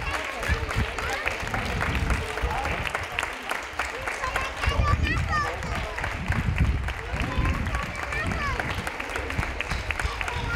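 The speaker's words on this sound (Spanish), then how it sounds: "Venga, un fuerte aplauso, que lo han hecho súper." Audience clapping after an end-of-year children's concert at a municipal music school, steady applause mixed with crowd murmur and some voices throughout.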